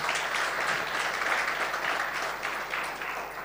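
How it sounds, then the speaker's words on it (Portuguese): Congregation applauding together in a church service, a dense, steady wash of clapping at moderate distance that holds evenly from start to finish with no voices on top. "Então dê um aplauso bem forte ao Senhor."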